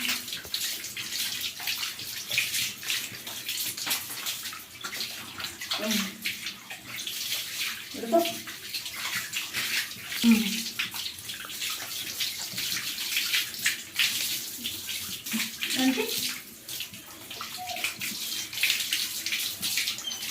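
Water runs steadily from a pipe while a puppy is bathed outdoors, a continuous close splashing flow with faint intermittent voices underneath.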